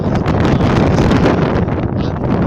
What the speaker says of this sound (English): It's extremely blowy today